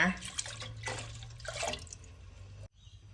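Thin coconut milk poured into a mixture while making young coconut jelly, a soft watery trickle and splash close by, lasting a couple of seconds and then stopping.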